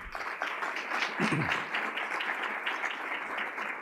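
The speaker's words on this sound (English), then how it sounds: "let's have an applause for Diamante" An audience at the 2008 Diamante Awards ceremony applauds steadily, a dense wash of many hands clapping at even loudness throughout, with a brief low voice or cheer rising near the middle.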